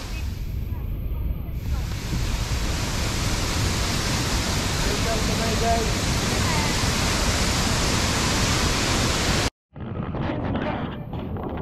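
Sungkilaw Falls gives a loud, continuous broadband roar of falling water. It stays close and unbroken until a brief cut near the end, and voices are faintly audible.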